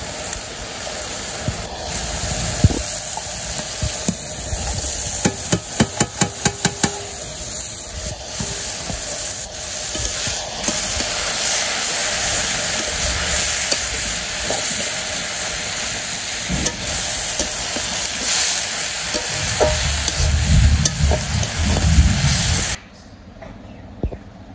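Water lily stems are stir-fried in a pan with fried fish and onion. They give a steady, loud sizzle and hiss with scraping stirs and a burst of rapid clicks, until the sound abruptly cuts off near the end.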